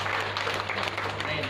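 A church congregation at a Sunday service claps together in a dense, continuous burst of applause that fills the hall, with voices mixed into the noise.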